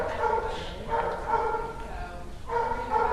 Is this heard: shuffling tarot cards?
no